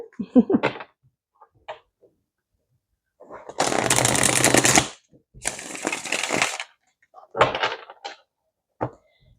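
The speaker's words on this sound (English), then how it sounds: "Oh, I just can't shuffle today." Several bursts of tarot cards being riffled and shuffled, with quiet gaps and small taps between the shuffles.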